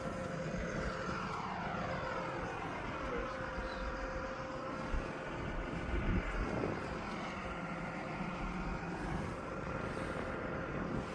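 Single-engine, one-propeller compact aircraft running close by, a continuous loud droning engine note with slowly shifting pitch and no break over the whole stretch.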